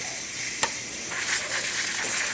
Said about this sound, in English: I'm gonna stop the steam now, close the valve, and cool down the machine